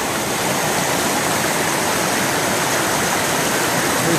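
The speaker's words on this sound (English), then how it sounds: "the Swift River is really swift today" The Swift River rushes fast and steady nearby, a dense, loud, unbroken roar of flowing water that holds an even level throughout, with no voices.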